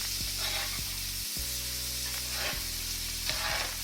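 Shrimp frying in a pan just after being flipped, giving a steady, close, crackling sizzle that runs without a break, with a constant low electrical hum underneath.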